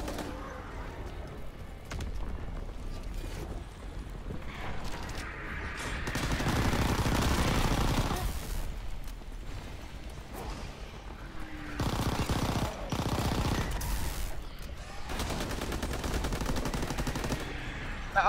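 Continuous rapid gunfire in Call of Duty WWII, overlapping bursts and volleys that rise and fall in loudness across the whole stretch, with little talk.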